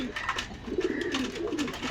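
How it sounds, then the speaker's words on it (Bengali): Pigeons, local and Pakistani breeds, in a pigeon shop in Gallamari, Khulna, cooing in low repeated rolling calls close by, with faint chirps and soft background shop noise. "একেবারে নিউ অ্যাডাল কবুতর, একজোড়া কামাগার কবুতর আছে"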